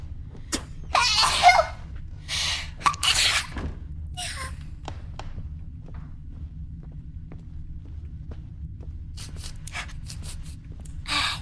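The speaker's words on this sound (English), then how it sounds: "The wine made me sneeze." A woman with a wine allergy lets out a couple of short, airy sneezes close to the microphone early on, followed by scattered light clicks over a low steady hum.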